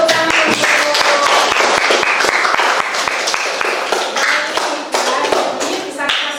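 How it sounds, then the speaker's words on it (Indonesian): A classroom of high-school students claps together during an Islamic cultural history lesson, the close, dense patter of many hands running steadily with a teacher's voice faintly mixed in. "Kita kasih tepuk tangan."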